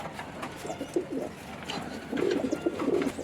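A pigeon coos in low, soft, rolling phrases, two or three short bursts close by over a faint background of other bird sounds.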